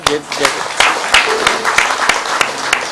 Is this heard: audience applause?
yes